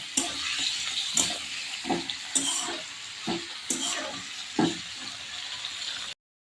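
Potato and green chilli steaming and frying in a wok for sago khichdi, a steady hiss with periodic scraping stirs every second or so, close and fairly loud, no voices.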